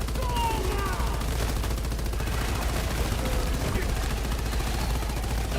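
Rapid gunfire bursts in a video game crackle over a dense, continuous bed of game noise and rumble, steady and loud throughout.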